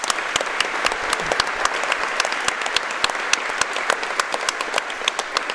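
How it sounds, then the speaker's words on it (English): Warm crowd applause for a player after a match at the Wallball Nationals handball tournament, with steady clapping and plenty of crisp, distinct claps popping out near the front. "So just a round of applause for Ben as well"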